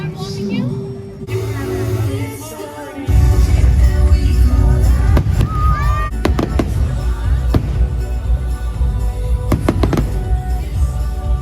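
Fireworks at Disneyland, booming bursts and crackling pops over crowd chatter and music, with people talking throughout.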